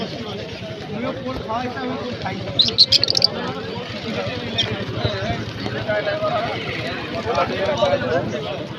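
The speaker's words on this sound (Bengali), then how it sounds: "আমরা এখন আছি পাখির হাটে।" Small caged birds chirp in brief bursts through a busy bird market, faint and partly buried under steady nearby chatter and crowd noise, with a short louder burst of tweets near the start.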